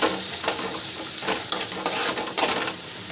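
Lentils with salt and turmeric stir-fried in a pan for a masoor dal egg tadka, a steady close sizzle broken by a few sharp scraping stirs of the spoon, with no talking.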